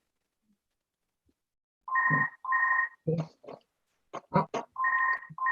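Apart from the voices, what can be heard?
mobile phone ringing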